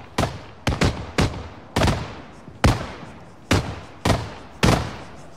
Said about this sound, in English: He's shooting through the tank.